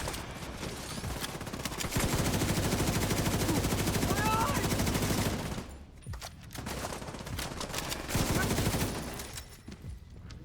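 Rapid video game gunfire with shock rounds, dense sustained bursts for the first half, then sparser scattered shots with a brief voice underneath.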